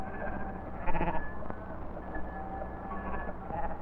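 Sheep bleat a few times on a Norwegian farm, the calls rising briefly out of a steady, muffled, hissy background typical of an old 1948 film soundtrack.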